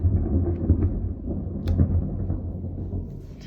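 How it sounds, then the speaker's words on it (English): Low rumbling thunder from an approaching storm rolls steadily, distant and fairly quiet, a continuous deep growl with slight swells and no voices. "I really hope you can hear the thunder."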